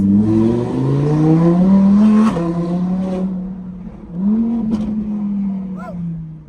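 Audi R8 V10 engine idling and pulling in slow traffic, a steady low drone close behind the cabin that rises briefly in pitch before settling, with a voice talking over it.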